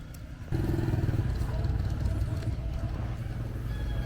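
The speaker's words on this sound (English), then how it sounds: "So many scooters." Scooters and motorbikes pass along a single busy road in a small town in Laos, a steady close engine drone with clattering traffic that swells loudly and continues without a break.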